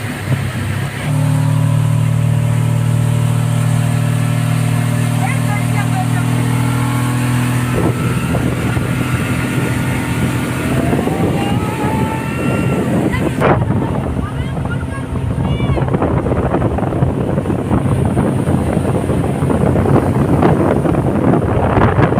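A speed boat engine drones on Patratu valley lake, a steady loud motor hum with strong wind buffeting the microphone, the tone shifting partway through as the boat runs on, with voices faintly underneath.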